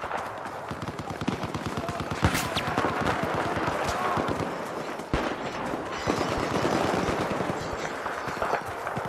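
Rapid machine gun bursts from the video game Battlefield 4 crackle in dense, repeated volleys with scattered louder shots and a battlefield din, and someone talks over them at times.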